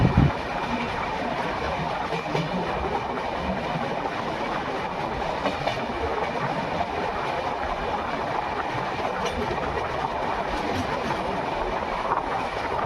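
An overnight express passenger train runs at speed on Indian rails near Jaipur, heading toward Durgapura station: a steady, loud rumble and rattle of carriages with faint rhythmic clickety-clack of wheels over rail joints, no voices.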